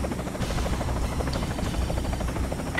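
Helicopter-type aircraft unit in the Yuri's Revenge strategy game, a steady loud rotor buzz and hum holding evenly through the whole stretch with no talk over it.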